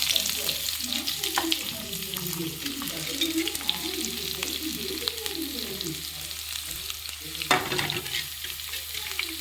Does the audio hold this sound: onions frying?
yes